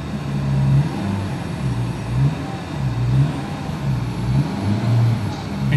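A 2012 Suzuki Cultus car engine heard from inside the cabin, moderate and somewhat muffled, swelling in repeated rev surges over a low steady hum.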